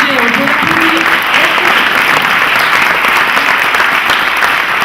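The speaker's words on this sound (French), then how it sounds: "On peut l'applaudir." A large audience applauds a filmmaker at an opening evening in Geneva, continuous dense clapping at steady loudness throughout, with a brief voice audible at the start.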